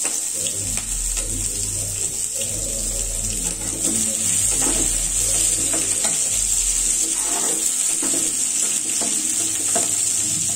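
Onions frying in oil with five-spice (panch phoron) in a home kitchen, a steady loud hiss and crackle running throughout with occasional stirring scrapes and a faint background hum.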